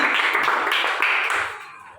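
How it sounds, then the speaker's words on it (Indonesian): A class of students claps hands during a classroom lesson, a short burst of brisk clapping that quickly fades out. "Tepuk tangan."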